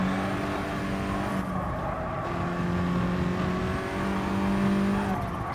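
Race cars in the video game Gran Turismo Sport drone around the track with steady engine tones and rising, shifting pitches, a continuous, moderately loud mix of nearby cars with no talk.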